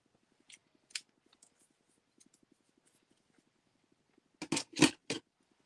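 Scissors snipping through foam up close, a few soft, scattered clicks and crisp cuts, then a quick burst of three louder chopping snips near the end, with quiet ticking in between.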